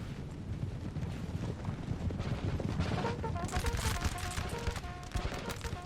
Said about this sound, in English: UK going to get off some volleys probably first